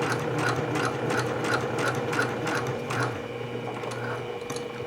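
A sewing machine runs steadily at close range, stitching a seam about 1/8 inch from the fabric edge, its needle thumping in an even rapid rhythm over a constant motor hum with no talking.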